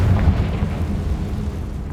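A Confringo explosive spell blast in Hogwarts Legacy, a sustained deep rumbling burst that fills the moment with low, roaring energy and no voices.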